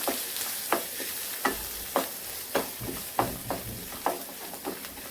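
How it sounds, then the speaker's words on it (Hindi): Chopped potatoes frying in a pan over low gas for a paratha filling, mixed with a utensil: a soft steady sizzle broken by about a dozen crisp scraping strokes in an uneven rhythm, close and fairly quiet, with no voices. "इस आलू को डाल देंगे। ये डालते वक्त गैस को स्लो ही रखें। अब हम इसे मिक्स कर लेंगे।"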